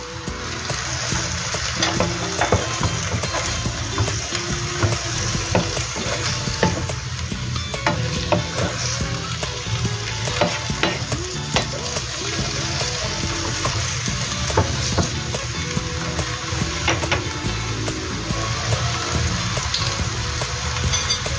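A cup of water poured into chow mein noodles frying in a pan, loud steady sizzle with stirring and scraping clatter throughout, close and continuous with no voices.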